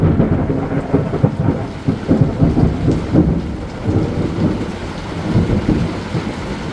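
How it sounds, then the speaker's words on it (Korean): Deep rolling thunder during a heavy rainstorm, with repeated low rumbles swelling and fading over the steady hiss of falling rain, loud and close. "와, 이거 천둥 소리가 이거 뭐 너무 살벌한데"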